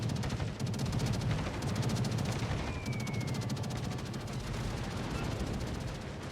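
Warship secondary guns firing in a naval video game, a rapid crackling stream of distant shots over a low rumbling engine bed, steady and moderately loud.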